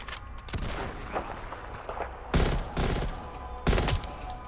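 Gunfire from a fight between gunners and scorpions in Fallout 4, rapid bursts of shots with two heavier blasts standing out against continuous game background noise.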